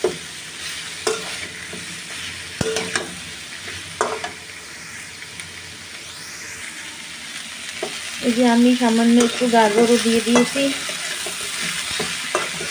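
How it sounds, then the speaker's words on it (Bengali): Cauliflower, onion, green chilli and chopped garlic fry in a pan, a steady sizzle broken by repeated spatula stirs and scrapes. Someone talks over the cooking partway through. "এবার আমি একটু কাঁচামরিচ আর রসুন কুচি দিয়ে দিলাম। এটাও আমি আরেকটু করে ভেজে নেব।"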